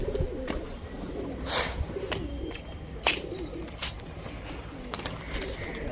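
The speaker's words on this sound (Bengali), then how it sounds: "কিছু কবুতর ছেড়ে দেওয়া হলো" Soft cooing from Rajshahi Giribaz pigeons rises now and then over a faint outdoor hum, with a few brief fluttery rustles as the pigeons are released.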